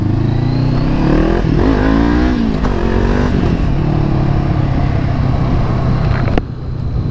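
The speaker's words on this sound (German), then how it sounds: "Es ist ein Motorradfahrer hinter uns." A motorcycle riding close behind a car, heard from inside the car as a loud, steady engine drone with a few rising revs, continuous throughout.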